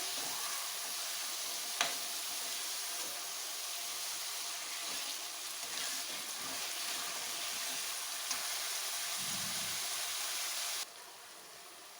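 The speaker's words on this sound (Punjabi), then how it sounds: "ਇੱਕ ਤੋਂ 2 ਮਿੰਟ ਲਈ ਪਿਆਜ਼ ਨੂੰ ਪਕਾ ਲਵਾਂਗੇ" Onions sizzle and fry steadily in a pan as part of a tinda vegetable dish, giving a continuous close hiss with a couple of faint clinks, the noise dropping off sharply near the end.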